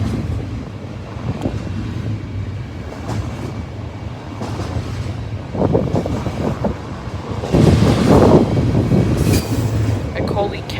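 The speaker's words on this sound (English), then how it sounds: "Look at how long this train is, guys. It's heading right under us." A long train rumbles past directly below a viewpoint, with a continuous roll of wheels and clattering cars that swells louder toward the end, plus wind buffeting and occasional voices.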